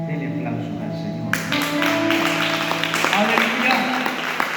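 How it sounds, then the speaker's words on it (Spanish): A church congregation in Nicaragua breaks into applause, clapping rising over a sustained musical background and continuing steadily as a voice carries on beneath. "Denle aplauso al Señor."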